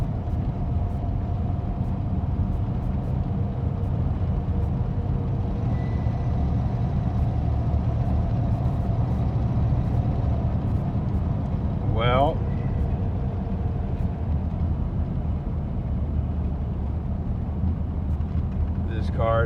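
A 1952 Buick being driven after sitting unused for 26 years, its engine giving a steady low rumble throughout, with a brief squeal near the middle and a person saying a word over it.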